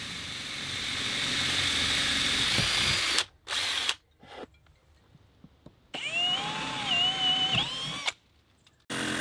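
A long drill bit bores a pilot hole through the inside wall of a music studio during a ductless mini-split air conditioner install, sounding in two whining bursts separated by short pauses, close and loud, with no talk.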